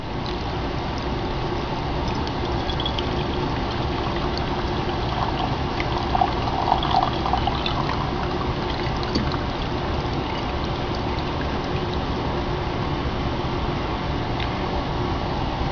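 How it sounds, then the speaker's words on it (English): Liquid silver colloid solution poured through a coffee filter, a steady soft trickle and gurgle running continuously for the whole stretch at an even level, with no voices. "I just take my solution, pour it right through there."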